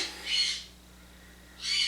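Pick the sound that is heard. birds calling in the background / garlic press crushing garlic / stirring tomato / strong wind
birds calling in the background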